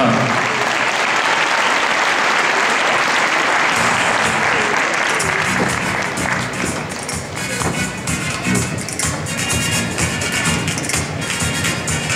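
An audience at the 2012 Bordeaux show jumping event applauds the riders during a lap of honour, a dense, loud, continuous clapping that lasts throughout, with rhythmic taps and a faint crowd murmur underneath.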